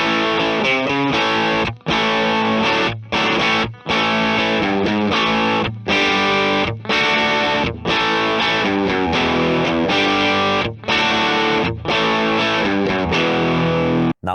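Heavily distorted electric guitar riff sent through a NUX B-8 wireless transmitter, dense and sustained with short rhythmic gaps between phrases, loud and upfront with no talking.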